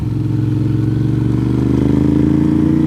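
A motorcycle riding a rough chip-sealed forest road near Deals Gap, with a steady droning engine and a fast, shuddering vibration from the coarse surface, loud and close, slightly rising toward the end with no talk.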